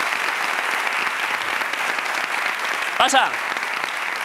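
A live TV studio audience breaks into loud, continuous applause for an arriving guest, with a voice briefly calling out over the clapping near the end.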